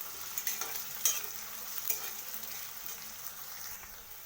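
Spices frying in hot oil in a pan for a village-style chicken curry are stirred with a utensil, a steady soft sizzle with occasional scrapes and clinks, close and fairly quiet, with no talking.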